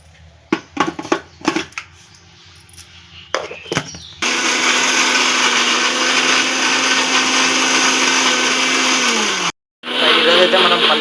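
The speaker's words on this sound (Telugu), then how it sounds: "మిక్సీ కట్టాలి" A mixer grinder blends peanut chutney with water, coarse salt and garlic: after some clattering and handling noises, a loud, steady whirring roar runs for several seconds, winds down, stops briefly, then starts again.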